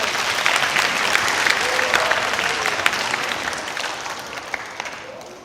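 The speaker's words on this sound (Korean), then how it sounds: "박수로 한번 맞이해 주십시오." An audience at a children's winter-vacation science concert applauds a student volunteer coming up, brisk, continuous clapping that stays loud and fades slightly at the end.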